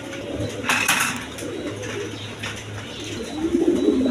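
A big-sized pair of German Beauty pigeons coo nearby, soft low throaty calls rolling on and off over a quiet background with a few brief rustles.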